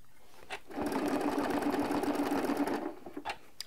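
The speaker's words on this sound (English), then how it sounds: "And stitch along again." A sewing machine stitches along a ruler line while crosshatch quilting, a steady close whirring run of rapid needle strokes lasting about two seconds, framed by a few light clicks.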